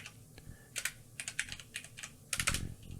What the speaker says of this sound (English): Type in 5 random, unrelated words